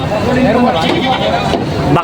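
Goats bleating up close in a backyard pen, several wavering cries overlapping with people talking nearby.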